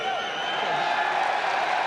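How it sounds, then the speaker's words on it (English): A rugby league crowd cheers a successful conversion kick off the touchline in a Super League match between the Catalan Dragons and Salford Red Devils, a steady broad roar with applause, while a commentator talks over it. "the crowd behind Arthur Morg were cheering as the ball left the boot"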